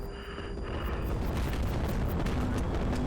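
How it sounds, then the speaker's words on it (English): Missile explosions in the HighFleet game, a continuous loud, rumbling barrage of booms filling the whole stretch with no pauses between blasts. "Incoming missile."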